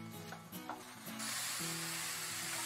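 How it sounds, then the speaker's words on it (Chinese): Minced pork stir-frying in a pan as its released water cooks off, a close hiss swelling into steady sizzle over faint tonal background sounds, with no talking. "那我们继续呢，就把水分给炒干，待会就会释出一点油脂咯"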